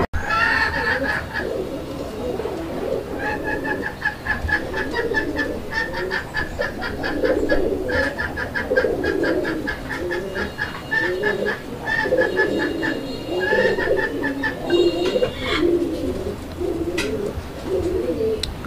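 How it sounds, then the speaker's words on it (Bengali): Chuina pigeons among domestic pigeons cooing nearby, with repeated throaty coos and warbling calls in overlapping bursts, some clucking-like notes, and faint background noise throughout. "আচ্ছা, তো এটা হচ্ছে চুইনা কবুতর"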